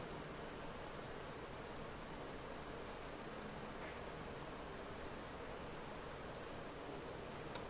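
A computer mouse right-clicks in Microsoft Word, giving several faint, sharp clicks at irregular intervals over steady low background hiss, with no voices.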